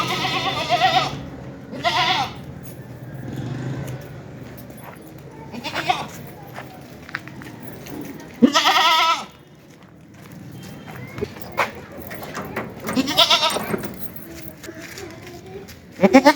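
Goats bleat in repeated, scattered calls close by, mixed with people talking and some shuffling movement.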